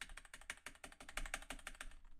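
Rapid, uneven bursts of computer keyboard key clicks during a game jam session, crisp and close, with dozens of keystrokes tapping in quick succession before stopping near the end.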